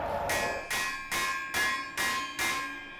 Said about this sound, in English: We're at that point where we're just hitting it with a hammer.